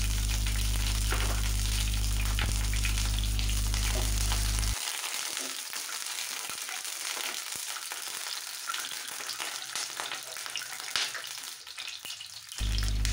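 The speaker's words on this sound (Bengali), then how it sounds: "ডিমটা তেলে দেওয়ার পরে ফুটতে শুরু করে তো একটু সাবধানে এটাকে ভেজে নেবেন।" Eggs fry in hot oil in a pan, giving a loud, continuous crackling sizzle that thins out partway through but keeps spitting and popping steadily to the end.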